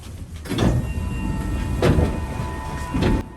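A train pulling into Takaoka station on the Ainokaze Toyama Railway on a snowy day, with a steady rumble of the carriage and three brief louder swells, closing with a soft hiss like a door mechanism.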